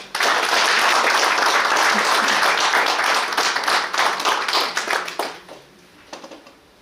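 Audience applause at a founding assembly of a civic group in Korea, a dense, loud burst of many clapping hands that holds steady for about five seconds, then thins into scattered claps and fades out.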